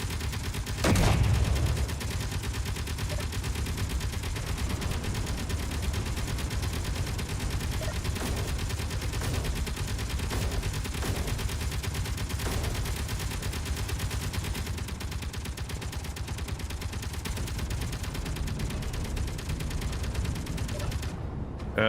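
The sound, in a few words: big guns firing in a video game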